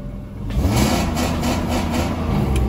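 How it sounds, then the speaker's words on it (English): A stock BMW M50 engine swapped into a W201 Mercedes 190E revs up from idle and holds a loud, steady, close engine roar, with no talking. "this is my first tune, which is M50 stock, which is gonna rev up to here"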